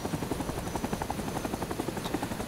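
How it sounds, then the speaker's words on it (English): Helicopter flying in the video game RS2, a steady close rotor thrum with rhythmic chopping pulses and a constant engine whine throughout, without speech. "start flying the helicopter"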